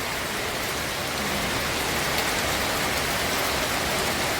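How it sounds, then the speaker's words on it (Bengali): Heavy rain pours steadily outside a house door in a village, a dense, continuous hiss of downpour drumming on surfaces with no pauses. "দেখো কেমন বৃষ্টি হচ্ছে"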